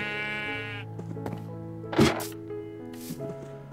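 Minecraft sheep in a pen give a few bleats, moderately close, with a dull thunk in the middle of the bleats and no talking.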